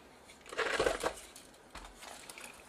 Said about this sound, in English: just peel back this heat transfer sheet